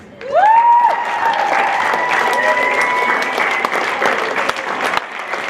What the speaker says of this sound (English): Let's get a quick round of applause